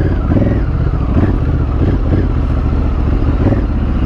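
A trail motorcycle's engine runs loud and close with a gruff, throbbing note and small swells on the throttle, riding continuously and without any talk.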